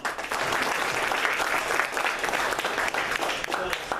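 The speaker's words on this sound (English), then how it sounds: "Okay, round of applause" An audience at the end of a political talk gives a round of applause, dense continuous clapping close and loud for several seconds, with voices mixed in.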